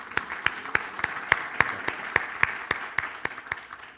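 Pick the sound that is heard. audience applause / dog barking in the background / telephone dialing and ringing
audience applause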